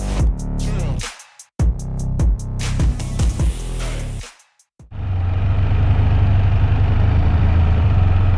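Can-Am Spyder F3 Limited three-wheel motorcycle engine idling steadily and up close with a low hum, preceded by loud bursts and clunks of handling before the steady idle settles in.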